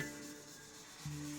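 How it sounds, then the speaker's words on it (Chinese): Lacquerware inlaid with eggshell fragments is sanded by hand in a Chengdu lacquer studio, a steady close abrasive rubbing that continues without pause. "这个是蛋壳一颗颗贴上去的，这些要打磨出来"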